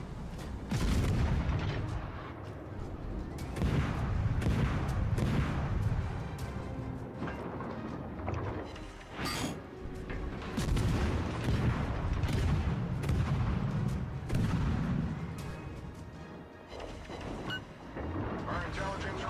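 Warship guns firing in the naval battle game World of Warships: Legends, repeated booming salvos rolling one after another over a steady battle din, with a voice talking throughout.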